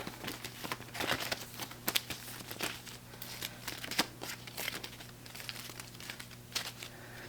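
Cards being shuffled up close: quick papery riffles and flutters in repeated bursts over a low, steady hum.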